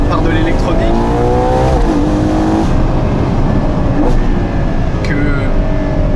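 A Ferrari Purosangue accelerates hard, its engine note climbing through repeated rising sweeps, loud and close, with a voice talking over the noise.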